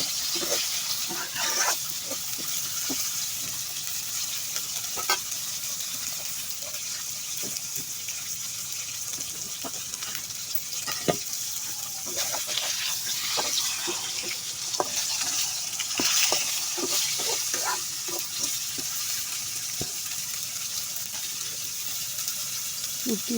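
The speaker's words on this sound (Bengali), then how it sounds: "আবারও উঠিয়ে দিচ্ছি, একটু উল্টিয়ে পাল্টিয়ে ভাজতে হবে।" Tilapia fish fries in oil and is turned over, producing a steady, close sizzle with repeated sharp spatula scrapes and taps throughout.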